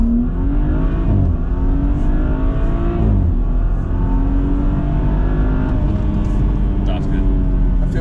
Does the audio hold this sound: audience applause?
no